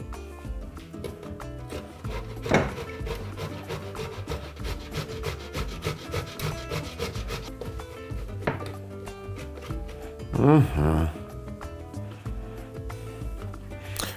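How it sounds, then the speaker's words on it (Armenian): Raw potatoes rubbed against the coarse holes of a kitchen grater, a steady low scraping texture that continues through the stretch, with a louder burst of scraping near the end and no talking. "Որից հետո քերում ենք կարտոֆիլը խոշոր անցքերով։"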